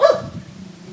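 A dog gives a single sharp bark outdoors, fairly close, which decays quickly into quiet background noise.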